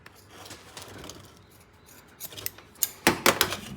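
A replacement pull cord for a Honda push mower being cut with scissors: quiet handling noises at first, then several sharp, close snips and clicks, the loudest near the end, with no talking.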